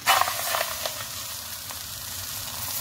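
Naan dough hitting a hot non-stick pan gives a soft, steady sizzle and hiss that starts a little stronger and settles into an even, close frying crackle.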